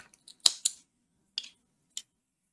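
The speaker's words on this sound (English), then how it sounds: "I'm going to cut the other threads as well." Scissors snip through crochet yarn threads in a few quick, close cuts: a pair of sharp snips, then two more spaced apart, with silence between them and no talking.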